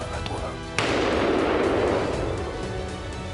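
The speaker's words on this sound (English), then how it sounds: "A single shot rang out." A single hunting rifle shot fired at a charging wild boar on a dry, grassy hillside, one sharp loud crack followed by a long rolling echo that slowly fades.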